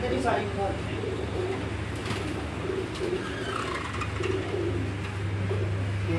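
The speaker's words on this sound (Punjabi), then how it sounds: "728 740 ਉਹ ਵਾਲੇ ਕਬੂਤਰ ਇਹ ਥੱਲੇ ਜਿਹੜੇ ਜੇ 728 ਤੇ 740 ਤੇ ਜੀ ਇਹ ਨੀਲ ਦੁੰਬੀ ਬਰੀਡ ਹੈ ਜੀ।" Neel Dumbi breed pigeons coo in a loft, a low repeated murmur under steady background hum, with a person talking over them.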